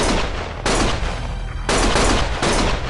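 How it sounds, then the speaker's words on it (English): Gunfire in the video game Lost Judgment, loud dense bursts of rapid shots in two long volleys with a short gap between, with no talk over them. "Stop shooting!"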